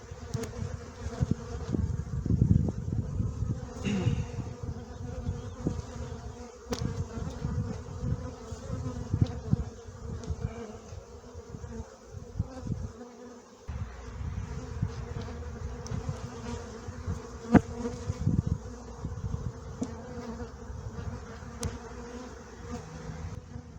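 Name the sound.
honey bees buzzing around a beehive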